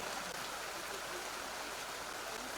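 Heavy rain falling during a local cricket match, a dense, steady hiss of downpour with no breaks and no voices.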